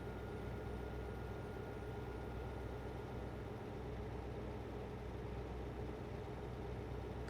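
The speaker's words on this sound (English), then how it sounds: "Maybe it's just the sound of the truck. We can hear it when we're not accelerating." Steady low rumble of a heavy truck engine rolling downhill off the throttle in American Truck Simulator, a constant droning hum with no change in pitch, no voices.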